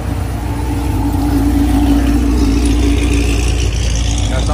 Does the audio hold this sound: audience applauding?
no